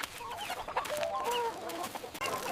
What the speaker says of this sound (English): It's time to feed the chickens.